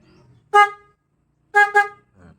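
A Bajaj Pulsar NS200 motorcycle horn toots once, then twice in quick succession, loud and close, with quiet gaps between the beeps.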